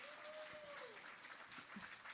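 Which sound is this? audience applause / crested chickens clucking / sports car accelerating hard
audience applause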